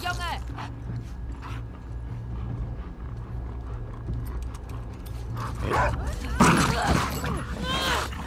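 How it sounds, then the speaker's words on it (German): A dog barks and growls during combat in the video game The Last of Us Part 2, with sharp barks rising near the end over a busy layer of game noise and movement. "Da ist noch ein Hund."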